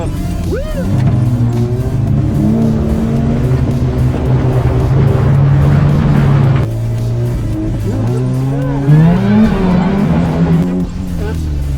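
A Pontiac Fiero drifts through an autocross course, its engine droning and shifting pitch under steady load, with tire squeal rising near the end, loud and continuous throughout.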